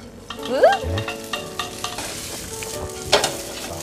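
Spaghetti stir-fried in olive oil in a hot pan for a green curry tuna dish, with repeated scraping stirring strokes over a steady close sizzle.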